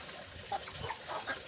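Chickens on a farm in the Philippines clucking softly, a few short scattered calls over steady background hiss and faint outdoor noise.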